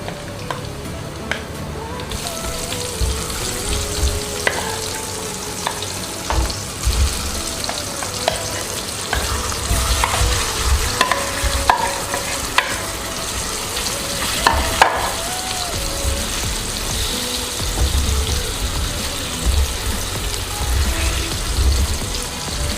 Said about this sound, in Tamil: ஒரு 2 நிமிஷத்துக்கு பரட்டி விட்டுட்டே இருங்க